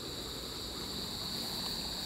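River water rushing steadily in a forest gorge, a dense continuous hiss and gurgle with no pauses and no voices.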